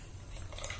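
A metal spoon scoops garlic powder, making a brief, faint clink and scrape of cutlery against a container.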